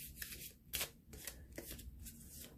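A deck of tarot cards being shuffled, a soft riffling and sliding of card against card in quick repeated strokes, close and alone for a couple of seconds.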